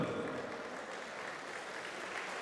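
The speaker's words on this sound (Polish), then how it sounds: "te brawa proszę troszkę bardziej gromkie, bo naprawdę sponsorom się należą" Steady, continuous applause from a crowd at a Poland versus Ireland kickboxing event, a dense wash of clapping that holds at an even level throughout.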